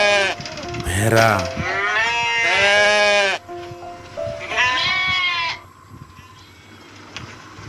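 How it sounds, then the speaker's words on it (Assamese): A sheep bleats loudly and close, with several drawn-out wavering calls in quick succession before the sound drops to a quiet background. "ভেড়া"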